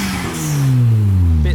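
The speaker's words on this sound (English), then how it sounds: "We have an RX-7 arriving." A Mazda RX-7 with a rotary engine revs hard as it leaves a car meet. The loud exhaust note sweeps downward in pitch as it passes close by, with voices in the background.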